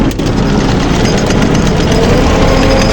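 A tractor-pulled potato digger harvests potatoes in a field, its engine and digging gear producing a loud, continuous, dense mechanical roar that stays steady throughout.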